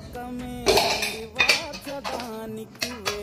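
Rice served out of a pot with dishes and cutlery clattering in short, close clinks and scrapes, with a cough and some background voices between the knocks.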